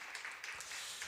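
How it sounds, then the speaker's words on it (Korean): Applause from a church congregation for the young people after a praise song, a short burst of broadband clapping at steady loudness with faint low rumble beneath. "우리 청년들 참 잘했다고 다시 한번 큰 박수 한번 해주시기를 바랍니다"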